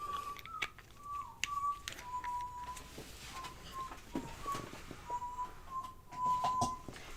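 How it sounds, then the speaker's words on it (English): Crichton whistles a tune in faint, intermittent melodic phrases with wavering pitch, heard at a distance beneath a low background hum in a room. "He is whistling like crazy."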